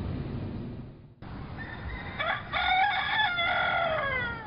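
A rooster crows loudly nearby, its drawn-out cock-a-doodle-doo rising over a background of clucking fowl and general barnyard noise.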